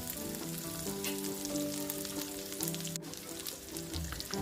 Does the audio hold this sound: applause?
no